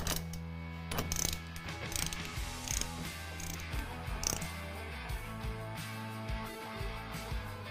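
A ratchet wrench clicks in short, uneven bursts while tightening a wheel bearing nut to 80 foot-pounds, close by over a steady low mechanical hum.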